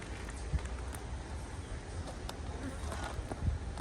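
Honey bees buzz faintly and steadily during a hive inspection in a Midwest apiary at nectar flow time. The hum runs continuously at low level, with a few soft knocks and handling bumps mixed in.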